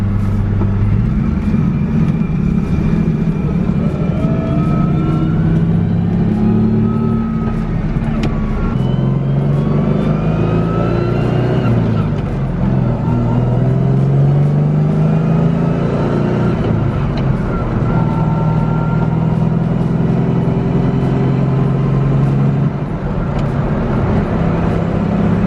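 A Fox body car with a manual transmission drives along, its engine note loud and steady throughout with shifting pitch as it accelerates and changes gears.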